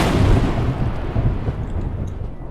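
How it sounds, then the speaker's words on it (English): Thunder rumbles through a stormy video game climbing level on a tall mountain, a heavy, continuous low roar with wind-like hiss that stays loud throughout and fades only slightly toward the end. "what is this flippin' thunder and lightning?"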